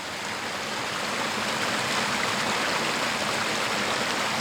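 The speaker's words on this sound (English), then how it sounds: "up above the culvert is this rushing little creek" A small creek rushes beside a wooden culvert on a hiking trail, a steady dense wash of flowing water, close and even throughout with no other sounds.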